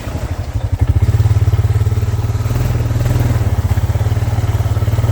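A four-wheel-drive ATV on new tires chugs loudly and steadily across rough ground around a homestead, its engine close and throbbing with an uneven, bumpy pulse.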